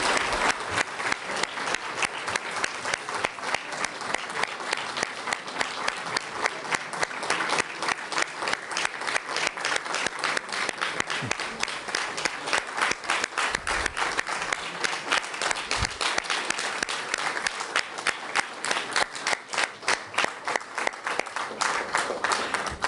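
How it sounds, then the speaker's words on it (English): A crowd gives a long, sustained round of applause for NATO Secretary General Jens Stoltenberg at a meeting with Canada's Justin Trudeau. Many hands clap in a dense, even roar that holds steady throughout, with no one speaking. "One more round of applause for NATO Secretary General Jens Stoltenberg."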